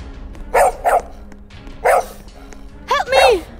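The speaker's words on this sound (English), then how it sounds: "Linda, take your dog away." A dog barks several times in short, loud bursts, first a quick pair, then a single bark, then a final yelping pair, against a quiet background with no speech.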